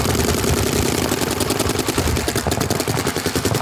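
A DYE MXR paintball marker fires a fast, continuous string of sharp pops outdoors, loud and close, with the rhythmic shots running nearly the whole time and no talking.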